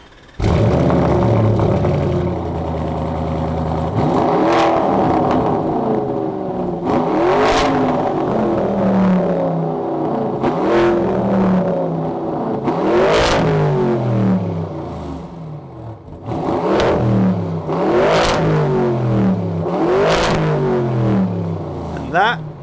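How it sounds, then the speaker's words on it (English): A Lamborghini Urus with a custom sports exhaust and wide carbon Nero body kit revs repeatedly, rising engine sweeps and sharp exhaust blips in close succession, loud and near. "now you're going to hear the custom sports exhaust on the Nero car"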